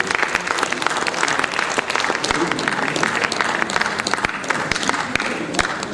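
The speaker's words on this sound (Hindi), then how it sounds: "एक बार बहादुर सिंह परमार के लिए तालियों के साथ अभिनंदन।" An audience at a literary award and honour ceremony applauds Dr. Bahadur Singh Parmar with dense, sustained clapping throughout, loud and steady.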